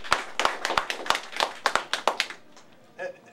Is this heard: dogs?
no